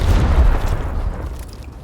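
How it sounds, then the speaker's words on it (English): A frag grenade goes off in Gears Tactics as one deep, booming blast that rolls away and fades over a second or two, with no voices over it. "we're going to grenade this horrible thing here. Do some damage. Outgoing frag."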